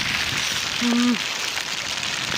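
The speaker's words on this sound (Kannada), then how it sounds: "ಮಳೆ ಅಂತೂ ಸಿಕ್ಕಾಬಡೆ ಮಳೆ ಬರ್ತದೆ" Steady rain hissing across the whole clip in Wayanad, dense and even, with a brief tonal hum rising out of it midway.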